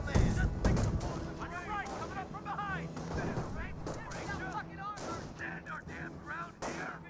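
Anti-tank gunfire from an M1 AT gun in the World War II strategy game Company of Heroes, heard as repeated heavy booms and thuds amid battle noise, under continuous commentary.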